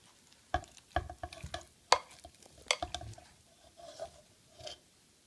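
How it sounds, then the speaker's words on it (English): Oatmeal being stirred into thick cookie batter for World War 1 oatmeal cookies, with a spoon scraping and clacking against the bowl in irregular, close strokes and soft, sticky squelches between them. "We will now mix the mixture together."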